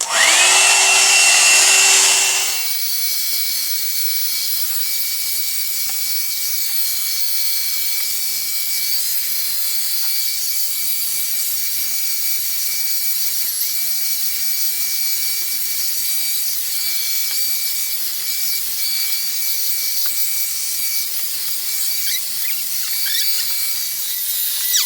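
An Amazon dupe one-step hair dryer volumiser brush whirs close by with a steady, loud airy hiss and a high motor whine, a brief louder burst at the start before settling into a constant drone with no talking.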